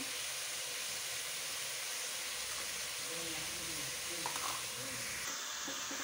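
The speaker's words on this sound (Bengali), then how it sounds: "মাংসটা ভালো করে নেড়ে দেবো।" Meat being stirred with ginger and garlic in a frying pan, a continuous close hiss and sizzle with soft shifting stir sounds underneath.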